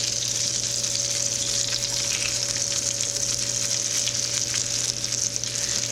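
Chopped potatoes sizzle in melted butter in a pan, a steady close crackling fry that keeps up evenly over a low background hum, without any speech.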